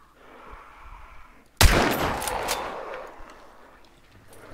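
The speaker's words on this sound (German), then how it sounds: "Ich lasse da hinten das Fass explodieren." A barrel explodes in the video game Hunt: Showdown, a single sudden loud blast after quiet background ambience, followed by a long rumbling decay.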